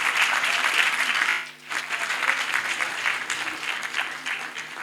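An audience at a corporate event bursts into loud, sustained applause that briefly dips in the middle and then picks up again before easing off.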